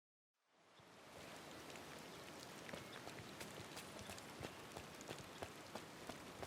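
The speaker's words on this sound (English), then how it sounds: "I'm so glad that it's raining right now" Rain falling in the Disney Dreamlight Valley video game, a steady soft hiss of rainfall with scattered droplet ticks, fading in at the start and continuing evenly, no talking.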